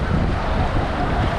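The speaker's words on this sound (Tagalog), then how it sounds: "hinampas po tayo ng alon" Ocean waves at a beach in Alicante, Spain wash over swimmers in a loud, continuous rumbling surge, with heavy wind buffeting a close action camera and no talking.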